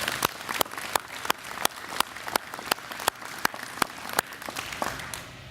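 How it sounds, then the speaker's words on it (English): Audience applause for a team at a groundbreaking ceremony, a modest crowd clapping with a distinct steady rhythm of strong, regular claps over lighter scattered patter, easing off at the end. "Please give them a round of applause."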